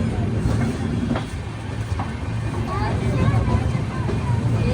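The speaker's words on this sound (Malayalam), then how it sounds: "വാടിയിൽ നിന്നും കറക്റ്റ് ഓൺ ടൈമിലാണ് നമ്മുടെ കോയമ്പത്തൂർ എക്സ്പ്രസ് എടുത്തു" Sleeper-class coach of the Mumbai–Coimbatore Express under way after leaving Wadi: a steady, close rumble of the running train with passengers chattering in the background.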